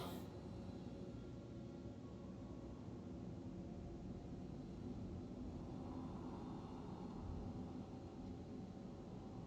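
Spaceship in Star Citizen descending to land with landing gear down: a steady, loud engine drone and rumble held throughout with no other sounds.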